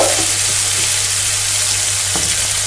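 Tomato and onion frying in a pan for a fish curry with cauliflower and potato, making a loud, steady sizzle that runs unbroken throughout with no voices.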